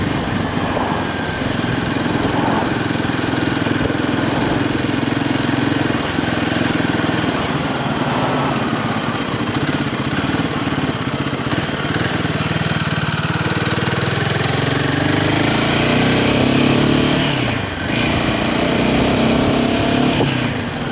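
A Royal Enfield Himalayan 450 motorcycle engine runs steadily and close, its mid-pitched drone rising and falling slightly as the throttle is worked, with no talking over it.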